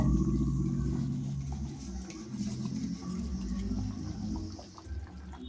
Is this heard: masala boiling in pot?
yes